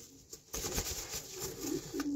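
Pigeon being handled and picked up for vaccination, soft close rustling and a brief flutter with faint cooing, quiet and intermittent.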